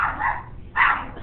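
A house dog gives two quick, sharp barks indoors in the background, moderately loud, with no talking over them.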